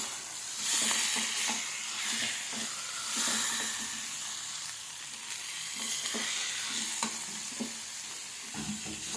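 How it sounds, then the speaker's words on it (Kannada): Sheep blood frying in a pan gives a dense, continuous sizzle with repeated scraping strokes of a stirring spoon throughout, close and steady. "ಚೆನ್ನಾಗಿ ಫ್ರೈ ಮಾಡ್ಕೊಂಡು ಫ್ರೆಂಡ್ಸ್."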